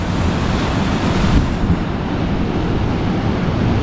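Strong ocean waves breaking at a beach in Australia, a continuous loud roar of surf with wind noise across the microphone and no voices.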